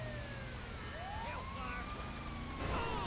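An ambulance siren in Grand Theft Auto V wails and sweeps up and down over a busy game soundscape, with a sharp impact burst near the end.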